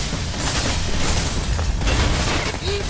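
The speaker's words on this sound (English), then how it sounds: "Who's shooting at me?" Gunfire crackles and booms in the first-person parkour game Mirror's Edge: loud, dense, continuous bursts and pops with heavy low rumble and no gaps.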